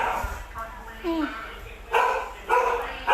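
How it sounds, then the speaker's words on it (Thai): A dog barks several times in front of a house, loud repeated yelps in short bursts, with a person talking in the background between the barks. "หมาเห่าหน้าบ้าน"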